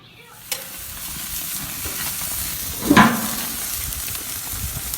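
Burgers sizzling on a grill, a continuous close frying hiss with a brief louder burst of spattering midway, no voices.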